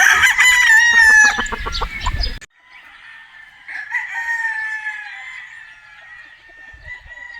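A Boston Roundhead brood stag rooster crows loudly and close by, with a long harsh call and clucking tones over the first couple of seconds. A fainter, steadier crow from a more distant bird follows.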